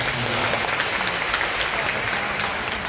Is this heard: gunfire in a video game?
no